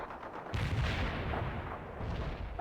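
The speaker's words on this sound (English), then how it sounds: "Launching a barrage." In the World in Conflict video game, an artillery barrage pounds away as a loud, continuous rumble of heavy impacts and booming fire. It swells suddenly and keeps going with no break.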